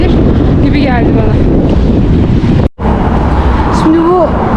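Strong wind in St. Petersburg buffets the microphone with a constant loud roar. A voice speaks over it, and brief rising tonal sounds appear, with a momentary cut partway through.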